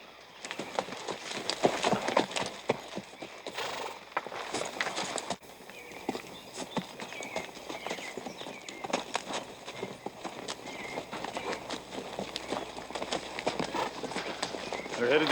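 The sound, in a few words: horses' hooves clip-clopping as riders approach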